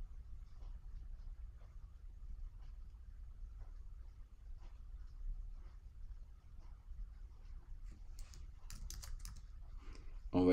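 Soft, fast tapping on a computer keyboard during online form entry. The keystrokes are faint against low background hum, and a brief louder clatter comes near the end.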